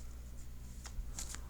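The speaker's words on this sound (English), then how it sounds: "I'm going to shuffle" Tarot cards shuffled in a few quick riffling bursts toward the end, close and crisp over a low steady hum, no voices.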